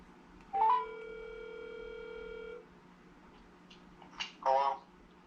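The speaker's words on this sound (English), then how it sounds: "I'm calling the number." A telephone call being placed: a steady tone holds for about two seconds, then short beeping bursts follow, clear and close against a low background hum.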